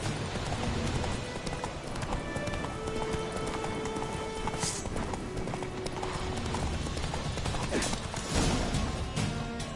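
Horse galloping in the video game The Witcher 3, a dense continuous run of rapid hoofbeats clip-clopping throughout, close and steady with occasional heavier thuds.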